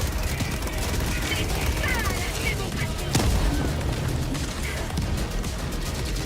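Weapon fire in the video game Helldivers 2 rattles in dense, continuous bursts with booms and crashes layered throughout, loud and busy, with a player's voice mixed into the chaotic battle noise.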